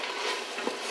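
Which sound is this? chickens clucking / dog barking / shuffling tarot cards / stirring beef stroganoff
stirring beef stroganoff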